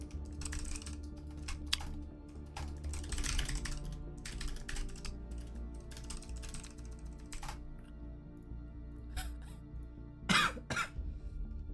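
A person coughing a few times at a computer during a game livestream, the coughs loud and close and mixed in with steady keyboard typing and clicking.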